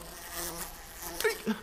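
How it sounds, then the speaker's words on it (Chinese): A hornet buzzing steadily close by for under two seconds, a continuous droning whine with a couple of brief louder bumps near the end. "别让那个马蜂跑了，打死他！"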